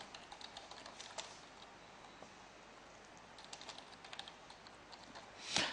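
Computer keyboard typing in a spreadsheet, quiet scattered keystrokes in small clusters with a slightly louder tap near the end.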